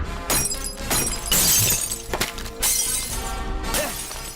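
Glass shatters and crashes repeatedly as stones are thrown during a mob attack in an action film scene, with dense overlapping breaking bursts over a loud music and effects bed.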